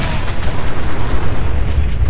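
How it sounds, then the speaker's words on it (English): A mini nuke detonates in a post-apocalyptic shooter game, a loud sustained rumbling blast with heavy low boom rolling on steadily for about two seconds without pause. "Double mini nuke explosion."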